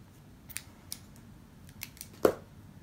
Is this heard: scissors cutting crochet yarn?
yes